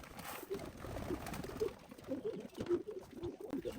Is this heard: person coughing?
no